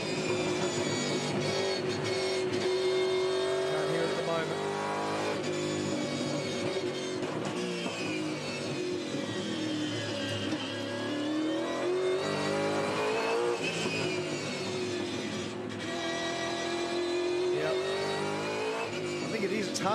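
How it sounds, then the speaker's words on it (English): A V8 Supercars race car misfiring on seven cylinders at Winton runs continuously, a rough, uneven engine drone with revving and pitch swells, loud and close, with no talk over it. "I reckon it is Lowndes' car on seven cylinders. Sounds like a Massey Ferguson"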